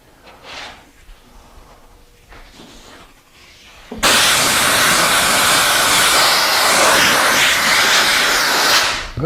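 An air compressor blows air through a nozzle over a lowboy furniture piece being prepped for finishing. A loud, sustained blast of hiss starts abruptly and runs steadily for about five seconds after a few quieter shuffling sounds.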